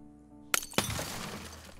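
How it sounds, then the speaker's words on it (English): Glass shattering in a Minecraft Percy Jackson roleplay, a sudden sharp crash followed by a second impact and scattering shards that fade out, breaking in after soft background music. "It sounded like glass shattering."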